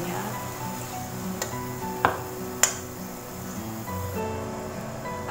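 Spice paste goes into a pot of simmering water for vegetable lodeh, with a soft bubbling sizzle, rustling stirs and two sharp clinks of a utensil against the pot.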